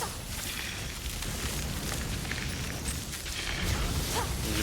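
Dense, continuous explosion effects from the game Dragonkin: The Banished, where an Oracle casts Lightning Beam, form a rumbling wash of bursts and pops with sharper blasts breaking through near the end.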